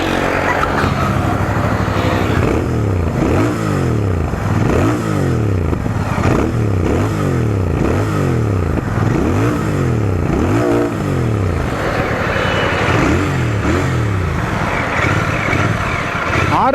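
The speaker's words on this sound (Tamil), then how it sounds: "எக்ஸாஸ்ட் கேட்போமா?" A Royal Enfield Bear 650 Scrambler motorcycle sits in neutral while its exhaust is revved repeatedly, loud and close, with a series of rising and falling engine blips in steady rhythm and no talking.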